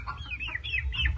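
Chickens being fed cluck in short, close squawking calls over a low rumbling background, several brief bursts with no one speaking.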